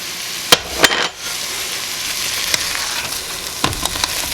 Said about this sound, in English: mix the flour in the peas and onions real good